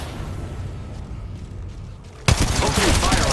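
Gunfire in the Apex Legends Mobile battle royale game, a loud, dense burst of shots erupting abruptly after a quieter stretch of ambient game noise and continuing to the end.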